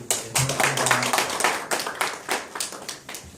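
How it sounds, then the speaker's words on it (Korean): Scattered, uneven hand clapping from a small symposium audience welcomes the next speaker, individual claps distinct rather than a dense roar, with a faint low tone briefly underneath. "큰 박수로 맞이해 주시죠."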